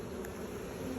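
Honey bees buzz at a client's hive late in the season, a low, steady droning hum without a break.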